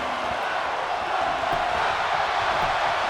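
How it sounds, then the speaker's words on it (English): A wrestling arena crowd roars in a steady, dense wall of cheering and shouting that swells slightly midway and holds loud throughout, with no clear single voice on top. "And the crowd is loving it."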